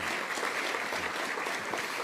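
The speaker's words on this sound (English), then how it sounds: "So please thank them for a round of applause." Audience applause at a women-in-leadership breakfast event, a steady dense wash of clapping that fills the short stretch at an even level with no pauses.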